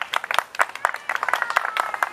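Audience in Orlando at an Ecuador independence celebration, applauding with a patter of individual claps from a modest group, irregular and fairly close, sustained evenly for about two seconds.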